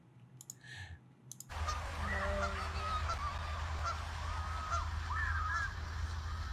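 A goose honks repeatedly outdoors by a lake, in a series of harsh calls over steady wind and background noise, after a short burst of sound at the start.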